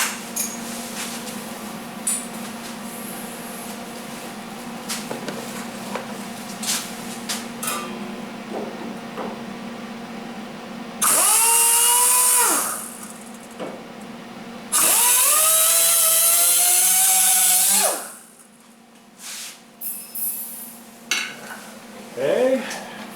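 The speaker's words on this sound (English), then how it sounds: "I want to use the cutoff wheel. Try and cut that off in an appropriate place." A cutoff wheel slices through the lower passenger-side quarter panel of a 1977 Camaro Z28, two loud sustained high-pitched grinding passes over a background of quieter workshop noise.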